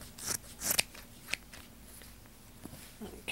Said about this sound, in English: When I'm cutting these things to fit to the frame